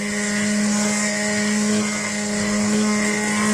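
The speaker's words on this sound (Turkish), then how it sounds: "Şimdi altını kısıyorum ve blenderdan geçiriyorum." A blender puréeing tomato tarhana soup runs with a steady, loud motor whine and hum for the whole stretch, with no talk over it and a brief dip near the end.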